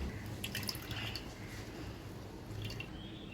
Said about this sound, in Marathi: मिक्सरला लावलेलं वाटण त्यात अशा प्रकारे गाळून घ्यावं।